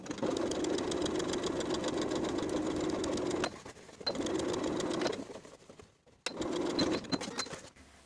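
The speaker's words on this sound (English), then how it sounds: "we'll stitch that front neckline seam allowance to the lining side of the front bodice" A sewing machine stitches a neckline seam allowance to the lining of a front bodice on a summer jumpsuit. The close, rapid mechanical whir runs in three bursts with brief stops between them.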